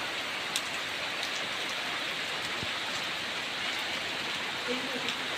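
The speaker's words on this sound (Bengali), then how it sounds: "আজকে সকাল থেকে প্রচণ্ড বৃষ্টি হচ্ছে" Heavy rain pours down outside a house surrounded by trees, a dense, even hiss of falling water that continues unbroken with a few faint drip-like ticks.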